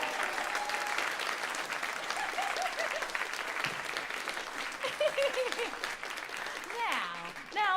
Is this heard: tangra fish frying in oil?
no